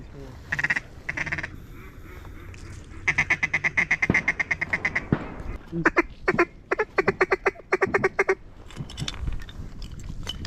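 Ducks quack in rapid, repeated bursts as they fly in to land over a public-land marsh in Arkansas, loud and close, with stretches of hunters talking quietly between the calls.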